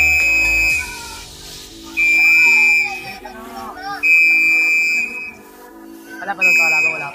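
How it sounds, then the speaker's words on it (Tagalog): Repeated high, sustained whistle blasts calling racing pigeons to a loft, about four long tones at regular intervals, with someone talking in Filipino between and under them. "May sipol na, nag-aabang na ng ibon niya."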